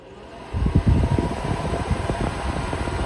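A fan kicks on after a brief quiet moment and runs steadily at full speed, a loud, even whooshing rumble that continues to the end.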